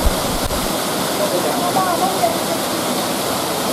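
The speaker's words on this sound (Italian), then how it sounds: "È la cascata Marasa." The Marasa waterfall in the Aspromonte mountains roars as a loud, steady broadband rush of falling water, close and continuous, with a brief voice heard under the flow.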